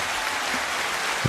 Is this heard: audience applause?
yes